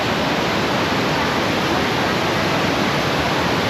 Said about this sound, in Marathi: हाच आहे तो घाटमाताचा धबधबा